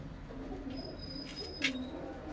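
A male white-eyed Malwai pigeon gives a couple of soft low coos, faint and brief against a quiet background.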